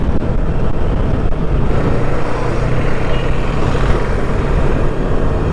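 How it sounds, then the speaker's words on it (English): A Yamaha R3 motorcycle's engine and exhaust roar steadily and loudly while it is ridden, a dense continuous drone mixed with heavy wind rush and no talking. "one difference which I could find out is the exhaust note of the R3"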